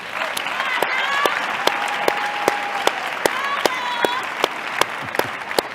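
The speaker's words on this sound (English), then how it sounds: "let's clap hands for her." Sustained applause from an audience, dense and steady for several seconds with a few sharper claps standing out, and a faint voice and whistle-like tones threading through the crowd noise.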